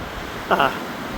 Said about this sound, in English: you can tell how windy it is